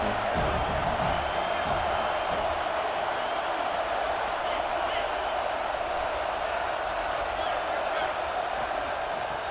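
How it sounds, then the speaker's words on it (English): Steady, dense roar of a large stadium crowd at a USC college football game, continuous and loud throughout with no distinct peaks, sounding like a broad wash of noise. "This crowd going to try to make life miserable for these guys."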